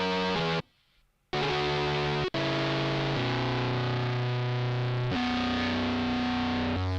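Heavily distorted, fuzzy tone from the BitFuzzer distortion plugin: sustained, buzzing notes that shift pitch in steps, loud and dense, with a short silent dropout near the start and a brief cut a bit later.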